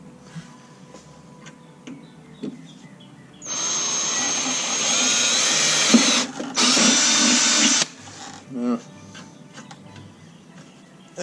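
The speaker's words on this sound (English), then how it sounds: "drill a couple holes there to try and relieve that stress" A power drill boring holes in the rotted steel deck of a push mower, two loud sustained whirring bursts with a brief pause between them and quiet clicks and handling around them.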